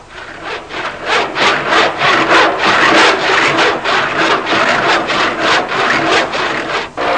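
A hand saw cuts through wood in steady rhythmic back-and-forth strokes, loud and close, each rasping pass repeating evenly with no talking.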